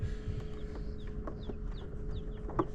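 Newly hatched chickens from a first-time egg hatching, with soft clucks and short peeping chirps scattered over a steady low hum, faint and close, with no talking.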